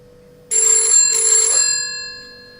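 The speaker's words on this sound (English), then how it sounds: "So that's the phone ringing the watch now." A kids' smartwatch (9Tong Q90) rings on an incoming call: an electronic ringtone trills in two quick bursts with a short gap, bright and close, then its tone lingers and fades away.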